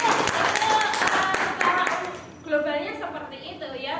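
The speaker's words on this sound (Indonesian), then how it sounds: "beri tepuk tangan" A class claps for about two seconds, a dense patter mixed with talk, before a voice continues speaking alone.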